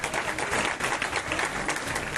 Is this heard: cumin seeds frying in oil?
no